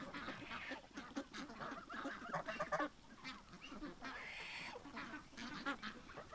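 A backyard flock of geese honks repeatedly at close range, overlapping calls rising and falling in uneven bursts, with quieter cackling between them.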